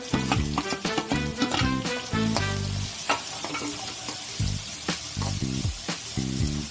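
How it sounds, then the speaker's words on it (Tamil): Chopped onions sizzle in hot oil with fried fennel seeds in a pan, a steady loud frying hiss broken by rhythmic scraping and clinking of a stirring spoon, with no talking. "இப்போ வந்து வெட்டி வச்சுருக்கேன் வெங்காயத்தை சேர்த்துடலாம்."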